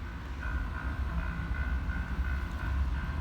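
Low, steady rumble of a passing train with faint wheel noise and a thin whining tone, no voices.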